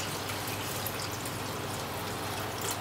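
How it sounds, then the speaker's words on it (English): Water tipped out of a biopellet reactor for a reef aquarium, a steady soft pouring trickle that runs continuously at low level without any talk. "tip the water out a bit"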